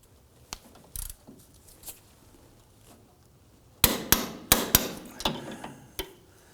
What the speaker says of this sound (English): We're now going to go ahead and torque down the hub bolts to 47 foot-pounds.